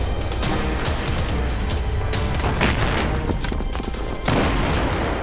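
Battlefield 3 video game combat: dense, continuous gunfire crackles over heavy low rumbling blasts from mortar explosions, with one stronger burst near the end, loud and unbroken throughout.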